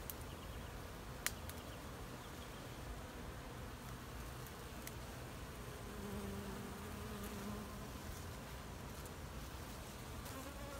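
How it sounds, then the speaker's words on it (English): A steady, soft drone of many bees buzzing together around a blooming Brazilian pepper plant, continuous and fairly faint, with a brief click near the start and no voices. "every bit of this plant is loaded with bees"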